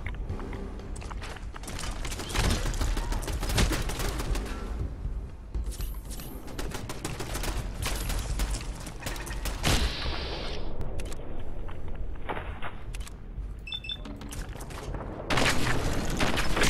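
Dense bursts of Fallout 4 gunfire and booming blasts crowd the scene, rapid volleys running loud almost throughout with brief lulls, heavy low thumps mixed in.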